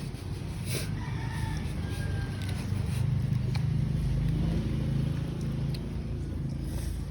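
Chickens cluck and a rooster crows over a steady outdoor rumble, the crowing rising midway and lasting a few seconds.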